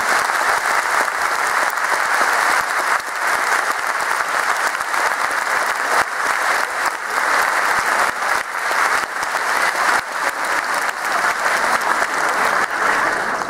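Sustained applause from a large audience at an indoor football club's team presentation, steady and loud throughout with no breaks, a dense wash of clapping hands.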